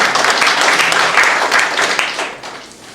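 Church congregation applauding during a Sunday New Year sermon, a dense wash of clapping that stays steady, then fades toward the end.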